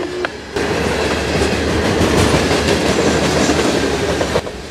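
A long freight train of 796 axles, 11,794 feet long and moving at 32 mph, rumbles past a trackside defect detector with loud, steady clickety-clack from its wheels, close by and continuous.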